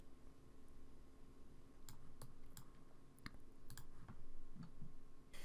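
Several faint, crisp mouse clicks while working in the FARO Sphere XG software interface, arriving in short irregular clusters over a quiet background hum.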